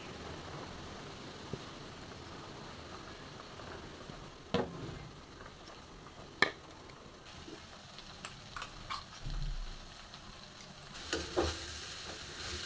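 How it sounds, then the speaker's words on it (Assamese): Food frying in a pan over low heat for an Assamese holiday lunch thali, with a soft, continuous sizzle and occasional scraping stirs and clicks of a utensil against the pan. "কম জুইত ভাজিব।"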